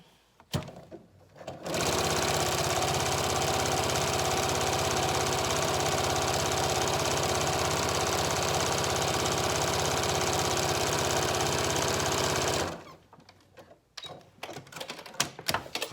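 A sewing machine stitches fabric scraps together for a Yup'ik-style scrap bag, a loud, rapid continuous mechanical whir running about ten seconds, bracketed by quieter handling clicks and rustling.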